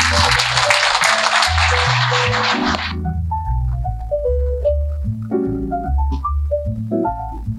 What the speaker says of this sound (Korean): 우리 박수로 안철수 의원님 모시도록 하겠습니다.